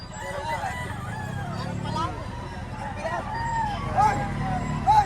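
Roosters crow at a busy gamefowl market in Lipa, Batangas, their calls rising over a steady crowd hubbub, with people talking throughout.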